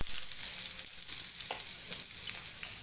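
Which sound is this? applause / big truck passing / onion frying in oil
onion frying in oil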